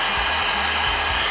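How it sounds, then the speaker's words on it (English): A handheld blow dryer runs close by, a loud steady whooshing roar with a motor hum that holds constant for the whole stretch while styling a curly gray lace wig. "I'm gonna go in with my blow dryer."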